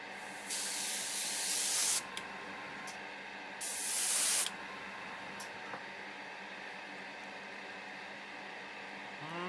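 Spray paint hissing onto a Polar Lights 1:1000 Star Trek Enterprise refit model kit: two short, loud bursts of hiss, about a second and a half and then one second long, with quiet gaps between.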